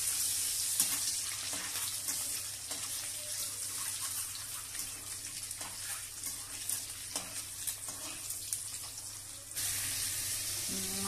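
A broken egg fries in a pan in a home kitchen with a steady crackling sizzle, close by and moderately loud, with occasional scraping and a faint clatter.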